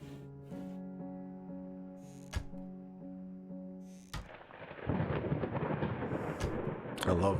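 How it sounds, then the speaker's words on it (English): Thunder in the horror video game Layers of Fear: a sharp crack, then a broad, heavy rumble that swells loud and close over a steady tonal hum, ending in another sharp crack. "I love that thunder sound."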